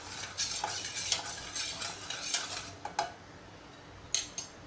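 A spoon stirs a dal and rice mixture seasoned with hing and turmeric in a metal pot, giving soft scraping and occasional light clinks against the rim.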